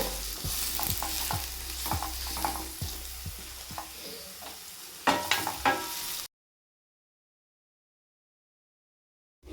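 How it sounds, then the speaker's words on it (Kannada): Finely chopped onions with dried red chillies frying in a pan for sambar: a close, crackling sizzle broken by repeated spatula scrapes and knocks for about six seconds, then silence. "ಸ್ವಲ್ಪ ಸಣ್ಣದಾಗಿ ಇಟ್ಟಿರುವಂಥ ಈರುಳ್ಳಿನ ಹಾಕ್ತಾಯಿದ್ದೀನಿ ಸ್ಮೆಲ್ ಹೋಗೋರು ಫ್ರೈ ಮಾಡ್ಕೊಳ್ಳಿ"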